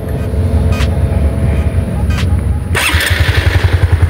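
Honda Supra motorcycle engine starting up and idling close by, a throaty, rapid pulsing putter that grows louder and steadier after the start, with a few brief sharp clicks.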